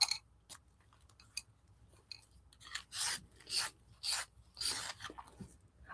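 Colored pencils being sharpened for marker and pencil coloring, a series of close, dry rasping bursts that grow longer and louder toward the end, with quiet gaps between them and no talk.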